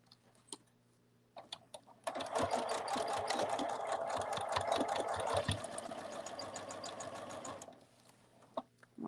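A sewing machine stitches a cuddle bunny in a long, steady rapid run of needle clatter lasting several seconds, close and loud, with short bursts and quiet pauses before and after.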